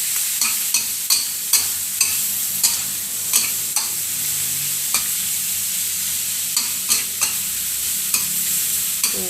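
Squid stir-fried in a pan hisses in a loud, continuous sizzle, punctuated by regular sharp clacks of a spatula tossing the pieces, close and without any talking.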